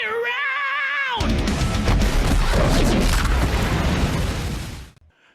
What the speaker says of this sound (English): Yeah, I can't have too many explosions.